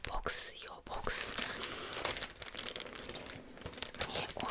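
Plastic packaging bags crinkling and rustling up close while a parcel is unpacked in an ASMR setting, a continuous crisp crackle with sharper tearing bursts, under soft whispering.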